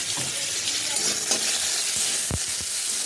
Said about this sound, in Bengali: এই নুন হলুদ দেওয়া তেলটাতেই আলুটা ভেজে নেবো।